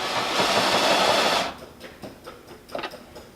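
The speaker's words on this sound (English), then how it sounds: "So I'm just making a little pilot hole" A drill boring a small pilot hole for bench bolts on a heavy-duty workbench, a loud, close whir for about a second and a half that then stops, leaving a few light clicks and knocks.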